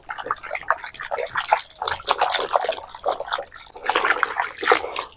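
Water sloshes and splashes in a vessel as ash gourd (white pumpkin) pieces are rubbed and rinsed, with steady wet trickling and scrubbing close by.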